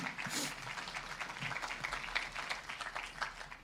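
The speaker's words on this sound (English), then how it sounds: "If we can just give her a round of applause as she just comes up for a second." An audience applauds a woman coming up at a Sunday morning gathering, with a steady, fairly faint wash of clapping that continues throughout.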